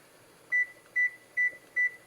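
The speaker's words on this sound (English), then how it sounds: "I need to set this timer" A kitchen timer being set while cooking tomato basil tortellini soup, giving four short, clear, evenly spaced electronic beeps against a quiet room.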